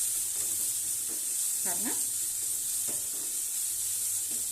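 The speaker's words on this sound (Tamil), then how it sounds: "இப்போ அரைச்சி வச்ச விழுதை இதில் சேர்த்துக்கலாம். லோ ஃப்ளேமில் நல்லா மிக்ஸ் பண்ணி விட்டுடலாம்." Ground curry paste with curry leaves fries in a pan over a low flame, a steady soft sizzle broken by scraping stirs, with a brief spoken word.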